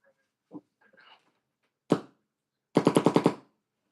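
A paintball marker fires one sharp shot followed by a quick burst of six rapid pops, each loud and close, with a few faint clicks of handling before.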